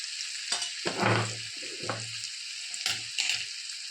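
Onions frying in hot oil in a pan for a spiced besan winter curry, a steady close sizzle with louder bursts and scraping stirs at intervals, no talking.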